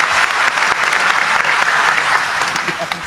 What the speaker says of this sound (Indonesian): Tepuk tangan untuk beliau, nggak apa-apa.